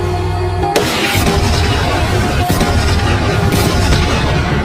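Loud bombs explode in an action film sniper-mission scene, a heavy initial blast followed by further booming detonations and crashing debris, dense and continuous at close range.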